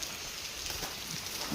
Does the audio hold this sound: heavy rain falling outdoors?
yes